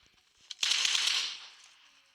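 In a PUBG match on the Livik map, a short burst of game gunfire erupts after a faint click, a bright rattling blast that fades over about a second, moderately quiet, without speech.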